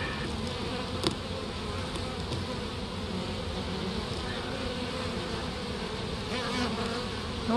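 Many honeybee drones buzz steadily close by, a dense continuous drone that holds evenly throughout with no other sounds.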